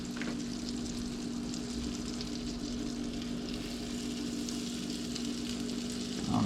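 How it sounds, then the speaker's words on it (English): Trout fillets sizzle steadily in butter in a hot pan, a constant crackling fry with a low steady hum beneath it, close and fairly quiet. "You might be ready to start frying some fish."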